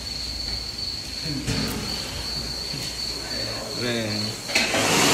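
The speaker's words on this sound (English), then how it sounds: "Hear them crickets in the background." A steady high cricket chirring runs throughout at a memorial gathering, with faint voices and scattered knocks underneath.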